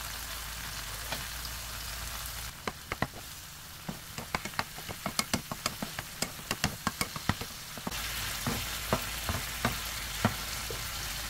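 Tomatoes frying in butter in a pan for a tomato egg scramble give a steady loud sizzle, broken by a run of sharp clicks and knocks as a utensil stirs against the pan.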